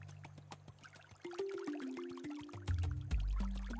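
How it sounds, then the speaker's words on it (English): Water pours and trickles in a short uneven stream, gurgling as the pitch rises, close by and fairly quiet. "He carried it to the tree and poured a little over the nest and a little over his own head."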